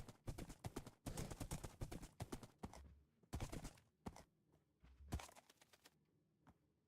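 Horse hooves clip-clopping in Minecraft, a quick run of sharp, close hoof clicks in uneven bursts that stop and restart, with a few isolated knocks near the end and quiet gaps between.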